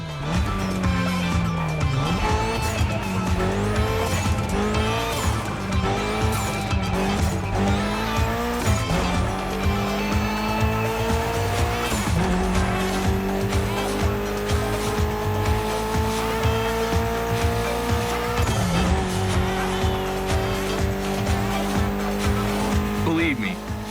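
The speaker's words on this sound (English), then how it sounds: "Mitsubishi gave us a nice inline four-cylinder with already 280 horsepower." A Mitsubishi with a 280-horsepower inline four-cylinder drifts in The Crew Motorfest, its engine revving hard and shifting through gears over long tire squeals and skids that build and repeat nonstop.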